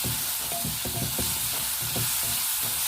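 Boiled tapioca is sautéed in a pan for kolli upperi, with a constant hiss of frying broken by repeated scraping strokes of a spoon or spatula at a quick, uneven rhythm.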